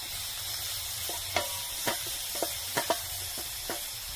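Vegetables, onions and garlic fry in a pan with a steady, close sizzling hiss, broken by scattered sharp pops and light clicks at irregular moments.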